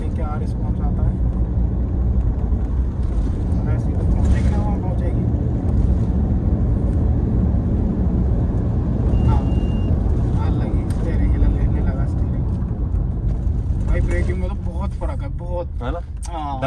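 A Mahindra Scorpio fitted with alloy wheels driving above 80, its engine and road roar loud and steady inside the cabin as a voice talks over it.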